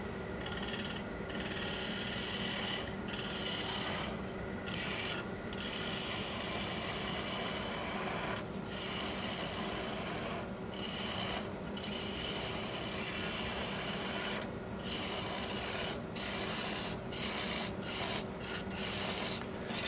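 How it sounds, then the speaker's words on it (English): A bowl gouge cuts dense granadillo wood turning on a lathe, giving a steady, loud scraping rasp with a constant motor hum underneath and brief gaps that recur through the cut. "My favorite bowl gouge is going to make short work of this."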